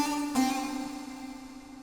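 A synthesized Indian-style string voice from a VST sounds a single sustained note with a sharp attack and a slight pitch bend, ringing and fading over under two seconds.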